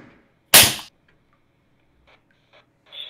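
A party popper goes off with a single loud, sharp bang, followed by a few faint ticks and rustles.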